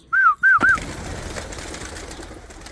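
A Spanish post pigeon gives three quick rising-falling calls close by, then only quiet background hiss remains.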